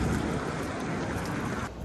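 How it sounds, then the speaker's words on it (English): Rain falls steadily in a soft, broad hiss, easing slightly just before the end; no talking. "Now I'm stuck and it's raining."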